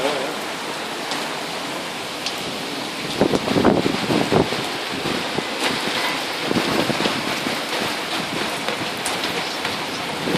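Heavy rain and strong gusting wind sweep a street in Liepāja, Latvia, a steady broadband wash with louder gusts around the middle, no voices.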